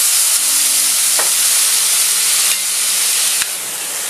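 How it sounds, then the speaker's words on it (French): Foie gras flambéed with armagnac in a pan gives off a loud, steady sizzle and hiss that carries on without a break, with faint clicks underneath. "Flambage."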